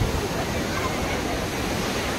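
Steady rushing wash of sea water and wind while riding out toward the middle of the sea, a dense, even roar with no distinct breaks.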